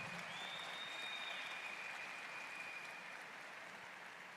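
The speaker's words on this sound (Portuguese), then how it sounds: "Uma salva de palmas para o Eduardo e para o Sérgio" Audience at a conference speech applauds steadily in a large hall, a dense, even clapping that fades slightly toward the end, heard somewhat distant and quiet.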